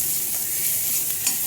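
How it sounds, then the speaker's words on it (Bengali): Onion paste frying and being stirred in a pan over a low flame for a katla fish gravy, a steady close sizzle with soft scraping stir strokes throughout. "পেঁয়াজ বাটাটা লাল লাল করে ভেজে নেব"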